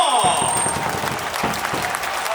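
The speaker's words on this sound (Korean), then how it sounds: "박수 보내주세요" A crowd at a Korean professional baseball game with the LG team applauds at a stadium, broad wash of clapping and crowd noise under a ringing announcer tone, continuous over a couple of seconds.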